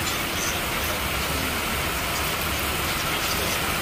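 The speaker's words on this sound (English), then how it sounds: "And it's raining." Steady rain falls outdoors in Lincoln City, Oregon, a constant broadband hiss of drops on surfaces that runs unbroken throughout at moderate level, with no talk over it.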